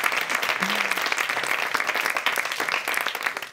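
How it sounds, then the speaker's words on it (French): A live comedy show audience in Belgium applauds in a dense, continuous burst of clapping, with a brief vocal sound near the start and the applause thinning slightly at the close. "tu peux applaudir"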